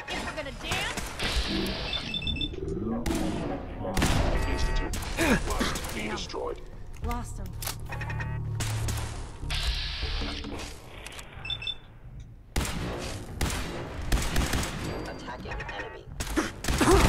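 Rapid Fallout 4 gunfire bursts crackle repeatedly over a busy mix of effects, with a voice talking intermittently throughout.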